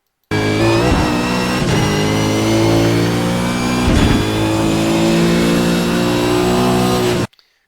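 A race car engine at Imola drones loud and close, holding a strong steady tone with a few brief dips and surges as the throttle eases and reopens, then cutting off abruptly.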